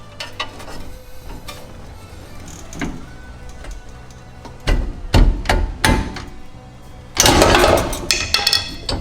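Pry bar knocking and levering a strut assembly out of a 2015 Ford F-150 with a 6-inch lift, giving sharp metallic clanks and scrapes that grow louder and denser toward the end, with no talking.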